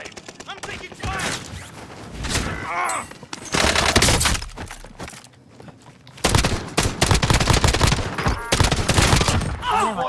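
Rapid bursts of automatic gunfire in the Call of Duty video game, dense and loud with short pauses between volleys, mixed with game sound effects and occasional voices in the background.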